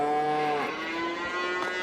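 Cows mooing in Farming Simulator 22 on a farm: one long, loud, drawn-out moo with a falling pitch and a brief second call at the end, heard alone.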